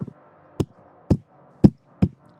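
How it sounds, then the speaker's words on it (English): Car collision effects in the Project Motor Racing racing game: five short, dull thuds spaced about half a second apart, isolated against near silence. "that's the collision sound"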